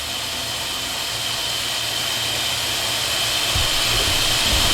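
A linisher belt sander running on a variable-frequency drive gives a continuous whirring roar with the belt tracking, holding steady and slowly growing louder.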